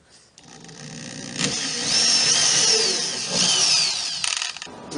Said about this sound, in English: I drill my pilot holes using a 5/64 inch drill bit